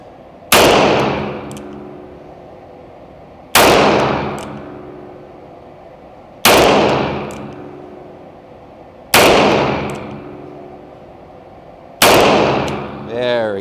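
Five loud, sharp gunshots from a Colt Shooting Master revolver ring out on a range, evenly spaced about three seconds apart, each with a quick fading echo, and a voice is heard briefly after the last shot.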